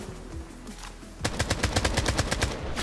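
Rapid automatic gunfire in the shooter Project Blood Strike, a loud, steady burst of a dozen or so evenly spaced shots that starts abruptly after a quieter stretch of game noise.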